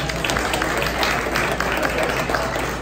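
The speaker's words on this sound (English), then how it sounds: "please give them a round of applause for coming out" Applause at a live podcast and network launch event, a brief steady patter of clapping from a modest crowd, with no voices on top.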